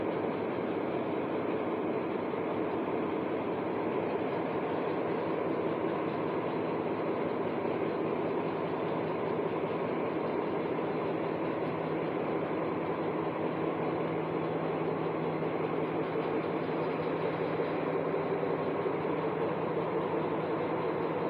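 A Hungarian "csörgő" railcar slowly begins shunting at Almásfüzitő station, giving a continuous, even engine rumble and hum at moderate distance, unchanging throughout with no voices.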